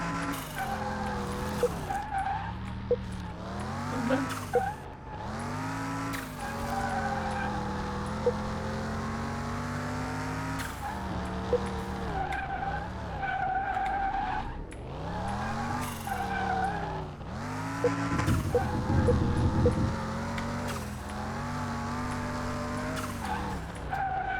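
A customer's car driving in Car Mechanic Simulator 2021, engine revving up and down through gears with repeated tire squeals and skids, steady and close, no talk.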